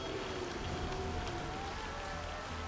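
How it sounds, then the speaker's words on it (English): Steady rain falling in the survival game Empyrion Galactic Survival, a dense even hiss with a low rumble underneath, continuous and fairly close, with no voices. "The rain is back"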